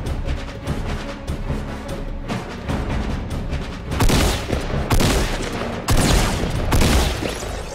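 Rapid bursts of gunfire in the Fortnite Battle Royale video game, dense overlapping shots with louder volleys toward the end, played continuously with no talking.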